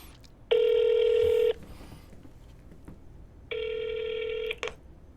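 A telephone rings unanswered on a call, giving two long electronic ring bursts about three seconds apart over faint background noise.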